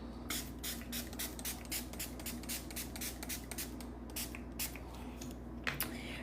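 Quick pumps of a fine setting spray mist hiss onto a face in a steady series of short bursts, close by, with a faint low hum underneath.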